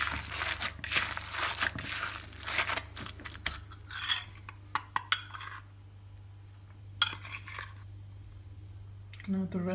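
Courgette ball mixture for kolokythokeftedes being mixed with cornmeal flour, giving soft scraping, clinking utensil and bowl sounds in uneven bursts, fairly quiet and close, with a low steady hum underneath.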